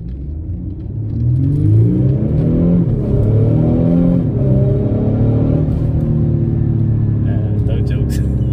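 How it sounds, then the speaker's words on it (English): A turbocharged Audi engine accelerates hard, a loud low rumble with rising harmonic sweeps that climb and shift through gear changes, sustained close up from the cabin. "That turbo's doing its thing."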